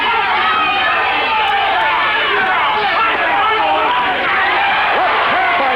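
A boxing crowd at a heavyweight bout roars steadily through the final round, dense cheering and babble filling the whole stretch while a commentator talks over it.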